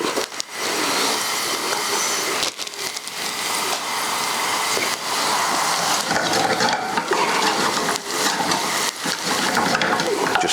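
A small handful of curry leaves frying in a pan, giving a steady, loud, close crackling sizzle that runs without a break and with no talking.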